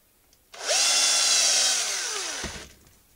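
A power drill fitted with a depth-stop bit drills polyurethane or rubber shoe material, starting with a whine, running at a high steady pitch for about two seconds, then winding down and stopping. Close and loud.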